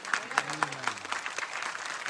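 Audience applause at an RAS seminar in Delhi, a dense crowd clapping steadily throughout with a few louder claps near the start, under brief background voices.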